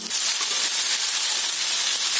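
Pumpkin leaves hit a pan of hot tempering, giving a loud, close, steady hiss of sizzling that holds evenly for about two seconds without any voices.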